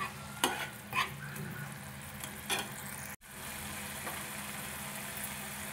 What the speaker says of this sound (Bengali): দিয়ে মশলাটা খুব ভালোভাবে কষাবো।